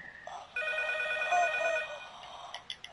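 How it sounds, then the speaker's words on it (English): A telephone rings in a Silent Hill video game demo, a steady electronic ringing tone that holds for about two seconds and then breaks into short clicks and beeps. "the phone's ringing! The phone's ringing!"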